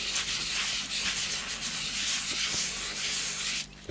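Finish is rubbed by hand into an offset ash bowl on a stationary lathe, a continuous close, loud hissing friction that scarcely varies before a brief break at the end.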